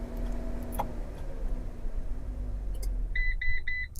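A Winnebago Travato RV sounds three quick, high electronic beeps in succession as the key fob unlock button is pressed, heard close over a low background hum.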